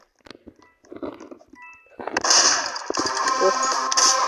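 Rapid bursts of gunfire in a Roblox game, sparse clicks and pops at first, then a dense, loud stretch of continuous shooting with crackling and blasts to the end.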